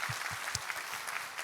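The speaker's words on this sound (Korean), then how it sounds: "우리의 예배를 받으시는 하나님께 감사와 영광의 박수 올려드리도록 하겠습니다" A church congregation at a Sunday worship service claps in a brief burst, many hands at once at moderate distance, with a few louder close claps.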